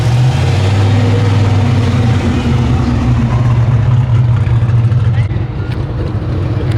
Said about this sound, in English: Here comes that turbo Fox body.